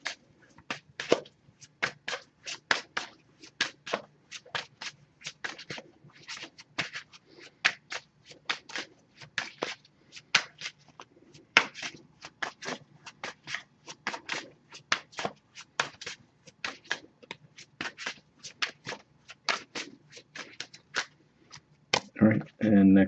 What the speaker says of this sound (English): Just going to pull a single card from this deck.